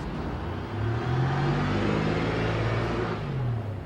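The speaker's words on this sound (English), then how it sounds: "Right now in Times Square, the general level of noise is above 80 decibels" Heavy Times Square traffic in New York City, a loud, constant roar of engines with a low vehicle rumbling and swelling past nearby.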